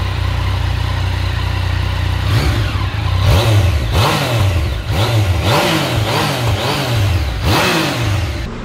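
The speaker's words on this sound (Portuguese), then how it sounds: "eu vou colocar algumas imagens do pessoal aí acelerando essa moto no originalzinho." A Yamaha Tracer 900 GT motorcycle with its stock exhaust is revved repeatedly near the microphone, its engine note rising and falling in about six throttle blips over a steady idle rumble.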